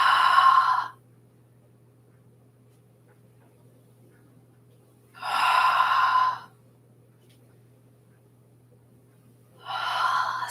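Deep breaths in a qigong breathing exercise, three airy swells of breath each about a second long, spaced several seconds apart over a low steady hum, close and fairly loud, with no talking.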